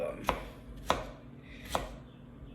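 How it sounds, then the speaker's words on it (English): A kitchen knife chops ginger on a cutting board with four sharp, isolated knocks spaced irregularly, close and fairly quiet, with no talk. "slice it a little bit first, and then we chop it up"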